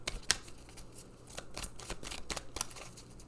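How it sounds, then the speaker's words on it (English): A deck of oracle cards is shuffled close up, a quiet run of soft riffling flutters and light card slaps, with no voices. "let's pull a couple more cards"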